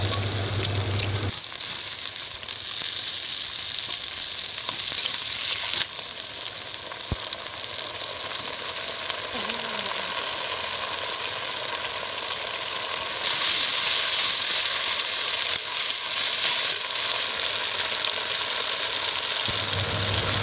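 Carrot, onion, capsicum, green chilli, garlic and tomato with soy and tomato sauce stir-frying in a hot pan for dry chilli chicken, a steady loud sizzle that runs without a break, with occasional stirring scrapes.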